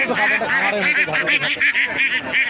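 Loud, close native ducks quacking in rapid repeated bursts, a noisy flock calling over one another.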